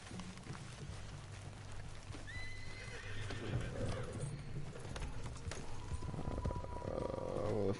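Horse whinnies and clip-clopping hooves in the video game Red Dead Redemption 2, a couple of rising neighs over steady hoofbeats and a low background hum, with the sound building louder toward the end.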